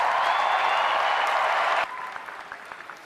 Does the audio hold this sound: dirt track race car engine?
no